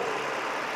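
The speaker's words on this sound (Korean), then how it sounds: "엔진 소리 한번 들려드릴게요" A Samsung SM7 New Art 2.3 SE Plus sedan engine idling, a smooth, steady, quiet hum held evenly throughout a short moment with no voices.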